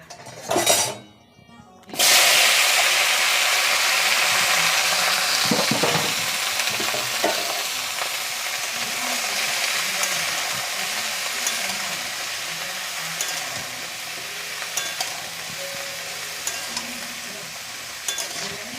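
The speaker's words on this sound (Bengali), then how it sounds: "এখন আলু ফুলকপিটাকে সুন্দর করে ভাজবো চলো এটাকে এখন ছাড়ি" Potatoes and cauliflower dropped into hot oil and frying, a loud steady sizzle with occasional stirring clinks of a utensil against the pan, close and continuous after a brief pause.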